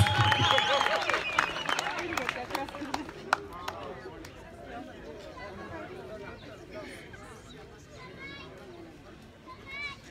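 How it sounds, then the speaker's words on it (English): Audience applause and cheering at a King Mzilikazi Day commemoration in 2021, a loud burst of clapping in the first seconds that thins into scattered claps and crowd chatter, with voices speaking throughout. "Please give him the round of applause."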